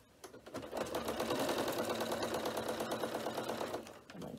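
A sewing machine topstitches folded vinyl on a bag in a close, continuous burst of rapid needle chatter that starts, holds for a few seconds, then stops.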